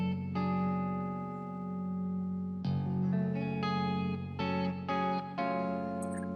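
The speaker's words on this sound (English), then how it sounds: "Like that acoustic. There's great clean tones there." Clean-toned acoustic guitar from a song plays sustained, ringing chords that are re-struck several times, with a louder burst of strums near the middle, heard alone and fairly quiet.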